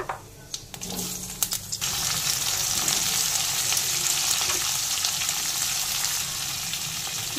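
Mixed vegetables hitting hot oil tempered with dried red chilies and five-spice in a pan for spinach curry, a few clatters first, then a loud, steady close-up sizzle and frying hiss.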